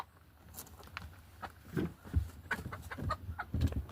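A hen that has just laid an egg clucks and squawks in loud, irregular bursts nearby, with a few soft footstep-like thumps between the calls.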